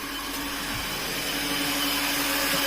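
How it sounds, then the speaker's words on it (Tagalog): A swimming pool filter machine hums and whooshes steadily nearby, a constant motor-and-water drone with no break and no voices. "Yan po yung machine ng swimming pool. Yan po nililinis yung water."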